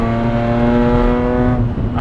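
A Nissan S15 drift car engine howls under hard acceleration, a loud, close, steadily rising drone that cuts off abruptly near the end.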